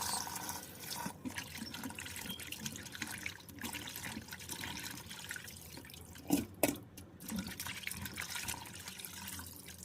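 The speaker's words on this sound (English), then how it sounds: "So I use the lemon, the sea salt," Cow foot is washed with hot water, lemon and sea salt: continuous faint running and splashing water with handling noises, a couple of sharper splashes midway, and no talk.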